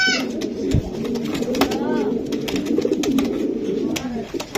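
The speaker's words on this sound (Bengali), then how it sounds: "এই যে নর অলরেডি ডাকাডাকি শুরু করে দিচ্ছে" A male racing pigeon coos in soft, repeated low calls close by, while people talk quietly in the background.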